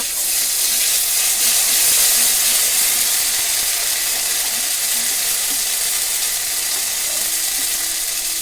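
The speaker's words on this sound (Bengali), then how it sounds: "জিরা দিয়ে ভালো করে নাড়াচাড়া করে আদা বাটা" Cumin and ginger paste sizzle loudly in hot oil while being stirred for a fish curry, making a constant bright hiss that stays steady throughout with no pauses or voices.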